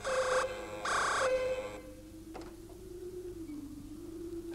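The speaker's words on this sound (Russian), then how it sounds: "Сигнализация?" A building's alarm signal sounds twice as loud electronic tones about half a second each, then fades into a low steady hum with a faint click, in a quiet indoor setting.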